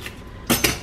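Cheap packaged metal silverware being unwrapped and handled, with two quick clattering clinks close by over a low, steady rustle, no talk.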